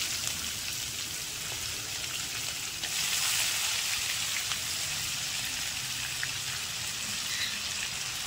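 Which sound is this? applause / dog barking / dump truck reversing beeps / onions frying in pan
onions frying in pan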